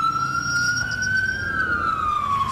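An emergency vehicle siren in the video game EmergeNYC, a loud wailing tone that rises and falls steadily over a low engine rumble, heard alone without talk.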